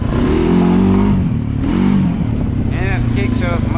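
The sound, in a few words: engine struggling while taking off in second gear in mud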